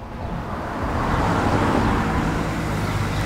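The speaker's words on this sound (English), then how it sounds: "These cars will stop going by." Cars pass by on a nearby road, a continuous broad rush of traffic swelling slightly and holding steady, with no voices.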